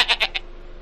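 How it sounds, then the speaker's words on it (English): A goat bleats in the Dora the Explorer Click & Create video game, three quick, bright bleats in a row, then a faint quiet tail. "It's a goat."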